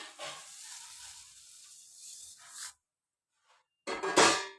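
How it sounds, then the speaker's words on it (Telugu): Water boiling in a pot as bambino vermicelli is added and stirred, giving a hissing, bubbling sizzle that stops briefly, then returns louder near the end. "ఇప్పుడు నీళ్ళైతే మరుగుతున్నాయి కదా, ఇప్పుడు మనం బ్యాంబినో అయితే యాడ్ చేసుకోవాలి"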